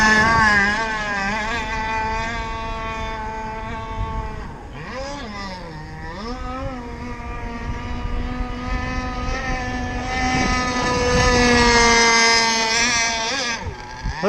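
An RC Jersey Skiff model boat runs its motor on the water on a windy day, a loud continuous buzzing whine that dips and rises in pitch as the throttle changes, surging higher toward the end.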